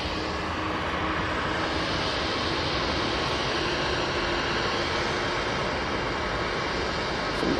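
A Hainan Airlines Airbus A330 passes at Manchester Airport, its engines giving a steady, loud broadband roar that holds throughout with no talk.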